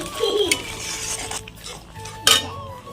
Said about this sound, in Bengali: আদা রসুনের পেস্ট কাশ্মীরি লাল লঙ্কার গুঁড়ো ভালোভাবে কষিয়ে নেব